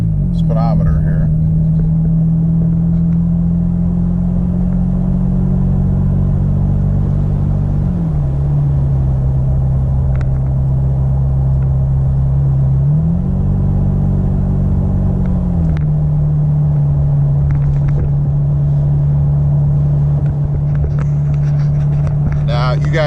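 A Toyota Tacoma truck fitted with bigger tires drives along, with a steady low engine drone whose pitch dips and rises with shifts, heard from inside the cab under continuous rumble while someone talks.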